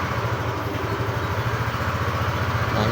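A motorcycle engine idles steadily after an electric-starter start, a low rhythmic putter close by that holds an even pace throughout, with no talking.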